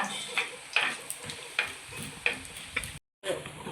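Urad dal and small red lentils fry in a pan with a steady low sizzle, while a spoon taps and scrapes at a regular rhythm close by. The sound drops out briefly near the end.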